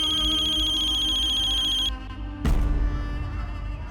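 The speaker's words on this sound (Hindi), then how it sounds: "बजने दो फोन को" A phone ringtone trills in a rapid repeating electronic pattern, then cuts off abruptly and is followed by a louder burst of different noise.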